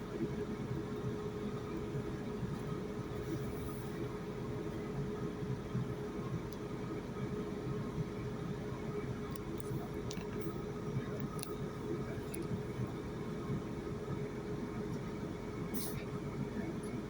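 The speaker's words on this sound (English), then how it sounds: "This train is now departing Southampton Airport Parkway." A four-carriage passenger train pulls out of Southampton Airport Parkway station with a steady, low rumbling hum that stays even and moderately quiet throughout, with faint clicks and rattles and no voices.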